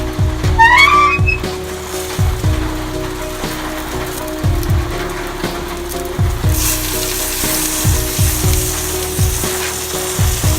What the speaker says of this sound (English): We're going to sear all the sides, and we'll be ready to serve it.